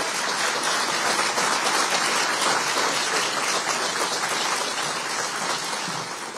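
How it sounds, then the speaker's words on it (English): Warm audience applause fills a press conference for a Golden Eagles athletics director, steady dense clapping from the crowd that holds throughout and eases slightly near the end. "please give a warm Golden Eagle round of applause for our Director of Athletics"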